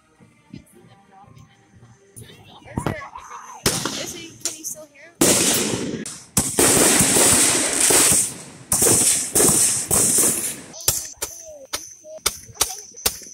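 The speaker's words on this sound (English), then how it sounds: "hopefully a fireworks show at 9 o'clock this" Fourth of July fireworks show: a run of loud, sharp bangs and crackling bursts, some in rapid clusters, with a steady high fizzing stretch through the middle and scattered pops at the end, with voices talking underneath.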